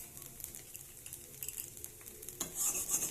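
Rice-flour sarucakli pitha being loosened and stirred in a pan with a utensil, a soft scraping and faint sizzling that grows louder and brighter near the end, with no talking.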